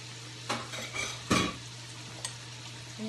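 A spoon scraping and stirring cheese into a Cajun shrimp pasta sauce in a pan, a few soft clinks and swishes over a faint steady hum.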